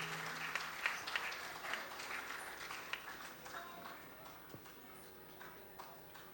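Audience applause at a music academy title ceremony honoring a young dancer, a soft, steady patter of many hands clapping at a distance, with a few sharper claps standing out and talk faintly underneath.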